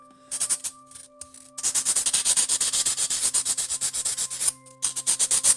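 A nail sander smooths and rounds the edges of wood for a bedroom furniture build, making quick, rhythmic rubbing strokes that come close and loud in a steady series, with one short pause.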